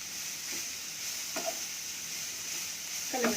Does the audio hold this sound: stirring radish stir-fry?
yes